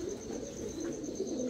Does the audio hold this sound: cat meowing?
no